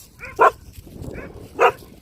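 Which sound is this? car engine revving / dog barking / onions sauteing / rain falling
dog barking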